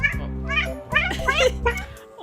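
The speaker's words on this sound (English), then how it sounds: "I taught her to meow on command" A pet cat meowing on command, several drawn-out meows in quick succession, close and fairly loud, with a few pitched rises and falls and brief gaps between calls.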